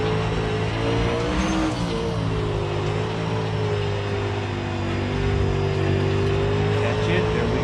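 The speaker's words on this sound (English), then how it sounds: "Rolling into the throttle." A dirt late model race car in iRacing drones loudly and steadily as its engine holds under throttle, with someone talking over the noise.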